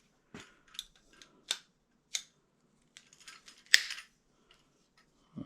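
A pipe cutter works on plumbing pipe while a leaking shutoff valve is replaced, giving sparse sharp clicks and snips with one louder crack near the end, close and otherwise quiet, with no talking.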